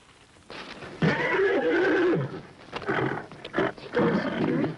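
A wild horse named Fury neighs and whinnies loudly in a few long, wavering calls broken by short gaps, close and clear with no talking.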